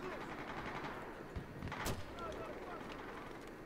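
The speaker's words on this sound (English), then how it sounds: "Oh, it's a sniper above me who's shooting." Gunfire in Battlefield 4 multiplayer, a sniper shooting from above, with a sharp shot around the middle over a dense, noisy battle backdrop while a player talks throughout.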